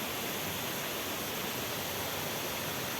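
Swift river water rushing steadily at Sungai Abah Bosongot, a dense broadband roar with no pauses, alone and fairly faint throughout.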